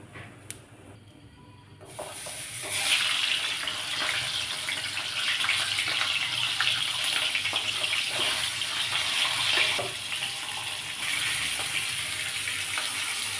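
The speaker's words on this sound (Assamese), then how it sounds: "এইফালে মাছ হালধি নিমখ সানিলোঁ, এইখিনি এতিয়া ফ্ৰাই কৰি লওঁ ধুনীয়াকৈ।" Turmeric-and-salt-coated fish fries in a pan. A steady, loud, hissing sizzle starts after a quiet first two seconds and continues without a break, with no talking.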